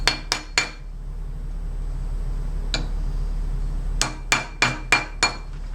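A hammer taps a soldered ring on a tapered steel mandrel: three sharp metallic strikes, a lone blow, then a quicker run of five ringing hits, close and distinct against a low background hum.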